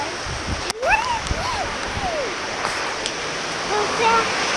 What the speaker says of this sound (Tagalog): Kita niyo po ba yung tulo?